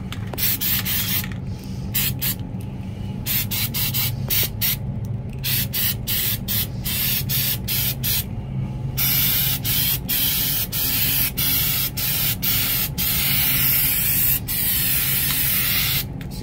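Nu-Calgon Pan-Saver coating sprays from an aerosol can onto a rusted produce case evaporator drain pan in repeated loud, close hissing bursts separated by brief pauses, followed by a longer continuous spray.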